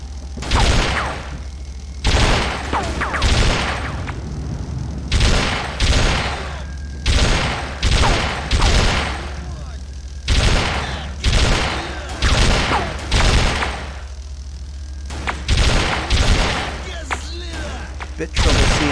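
Repeated bursts of gunfire in the VR shooter Z.O.N.A Project X, loud close volleys arriving in clusters of rapid shots with brief gaps between them, a voice talking faintly underneath.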